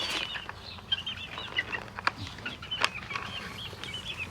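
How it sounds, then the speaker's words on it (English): Young chicken chicks peep and cheep steadily in a backyard coop, several small voices overlapping at close range, with a couple of sharper louder chirps and a rustle of wings breaking through. "But Ransom's chicks are getting big."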